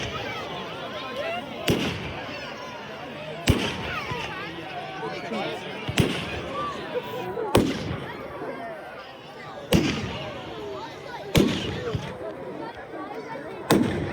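Firework bangers explode on Bonfire Night, about seven sharp, loud bangs spaced a second or two apart, with people talking and calling out in the background between them.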